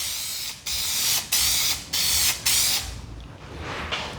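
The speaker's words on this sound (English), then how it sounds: "shake that and then you spray it." Spray adhesive can hissing onto edge tape in short bursts, about five loud, close sprays separated by brief pauses, with a softer sputter at the end.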